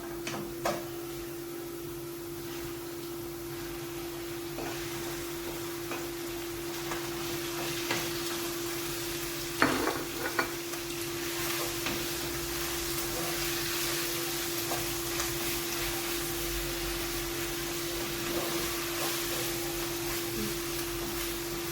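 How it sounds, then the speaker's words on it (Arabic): Meat fries with wilted onions and peppers in a pan, giving a constant low sizzle and hiss over a steady background hum, with a brief knock of a utensil partway through. "بعد ما دبل عندي البصل والفلفل بضيف عليهم اللحمة"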